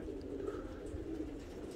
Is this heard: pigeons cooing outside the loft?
yes